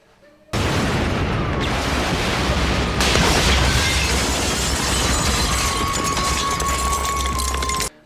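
A massive five-story building exploding, heard as a sudden loud, sustained roaring blast with deep rumble and crackling debris, steady for several seconds before cutting off abruptly.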